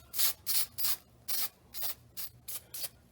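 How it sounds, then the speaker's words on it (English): Spray bursts onto the inner side of a C3 Corvette seat cover come as about nine short, close hissing puffs in a quick, uneven rhythm. "So I've just sprayed all this side."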